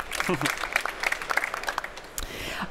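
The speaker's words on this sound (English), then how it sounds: "Please give him a round of applause." Applause from a trade-fair forum audience at drinktec, a dense patter of clapping hands with some voices mixed in, moderately loud and sustained throughout.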